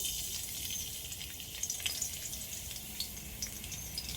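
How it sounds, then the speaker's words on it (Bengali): Chopped garlic sizzles in hot white oil in a wok, a faint, steady hiss scattered with small crackles and pops. "তেল গরম হয়ে গেছে রসুন কুচি দিয়ে দিচ্ছি"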